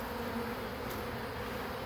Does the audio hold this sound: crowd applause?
no